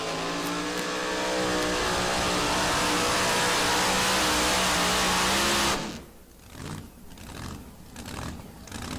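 A truck engine at a tractor pulling event in Baraboo, Wisconsin roars at sustained full throttle, very loud and steady, then abruptly drops off to lower, fluctuating revving at the end.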